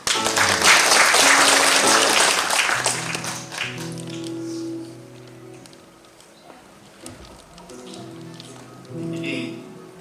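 Loud audience applause at a Gangseo literary gathering fades out over a few seconds as guitar notes begin to ring, with a brief scattered return of clapping later under the guitar.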